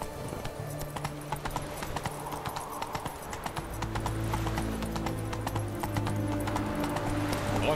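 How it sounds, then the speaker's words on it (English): Horse hooves clip-clop in The Witcher 3 video game, a steady rhythmic trot that carries on throughout, with a low hum and game sounds layered underneath. "Whoa there, Roach."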